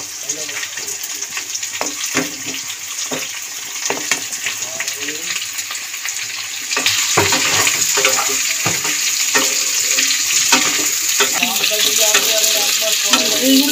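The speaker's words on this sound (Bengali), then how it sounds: "এটাও নাড়া হয়ে গেছে মূলো আর রাঙা আলু।" Pumpkin, radish and sweet potato frying in oil while being stirred for a mixed vegetable curry with prawns, a close continuous sizzle broken by repeated scraping strokes that grow louder midway.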